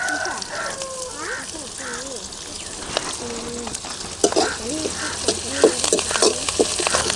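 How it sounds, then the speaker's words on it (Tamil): Onions sautéing in oil for amaranth leaf kootu give a steady, close sizzle with scraping stirs, while a voice talks over the frying throughout. "நல்ல வெங்காயம் செவக்க வணங்கிட்டு"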